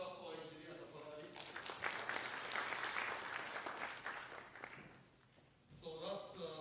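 An audience claps for an engineer at a Women in Manufacturing launch event, moderately loud applause under overlapping speech, fading out before voices return at the end.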